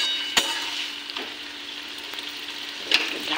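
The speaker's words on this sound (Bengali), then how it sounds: "আমি ভালো করে ফোড়নটা মিশিয়ে নিই" Spices tempering in hot oil: ground cumin, Kashmiri chili and coriander powder, stirred through. A steady soft sizzle runs throughout, with a few sharp clinks of a spoon against the pan.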